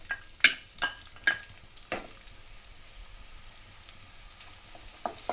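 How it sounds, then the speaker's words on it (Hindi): Chopped green onions sauté in hot oil in a pan, a soft steady sizzle broken by a few sharp crackles and spatula scrapes, close and without any talk. "इसको 1 मिनट तक सौते करेंगे।"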